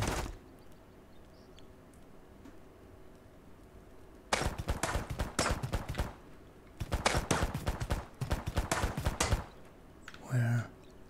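Bandits' gunfire in the survival game Mist Survival, two bursts of rapid, loud cracking shots a few seconds apart over a quiet ambient bed, ending with a short heavier thump.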